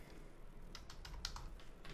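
Quick, light clicking of keys on a computer keyboard, a short run of soft taps close by against a quiet background hiss.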